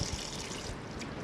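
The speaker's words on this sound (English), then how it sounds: "you're draining the systems down" Fresh water drains from the outlet of an Auto Sleeper Symbol motorhome as a steady, fairly close trickling pour, continuous and alone throughout.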